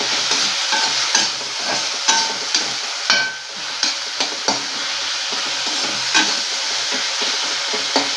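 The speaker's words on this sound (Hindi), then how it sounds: "अच्छे से मिक्स करके लेंगे।" A spoon stirs cauliflower and pea sabzi frying in a pan, hotel style: a steady close sizzle with repeated scraping strokes about once a second.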